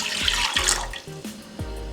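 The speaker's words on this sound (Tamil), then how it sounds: "1 டம்ளர் பாலை ஒரு பாத்திரத்தில் சேர்த்து காய்ச்சிடுவோம்." Milk being poured into a cooking pan on a home kitchen stove, one cup for a garlic milk remedy; a close, continuous liquid splashing and trickling with a few brief clinks of the pan, no speech.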